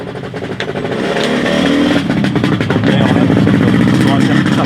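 Racing car engine revving hard at a hill climb event, a loud, continuous roar that builds in intensity and holds near the listener throughout, with a voice faintly audible beneath it.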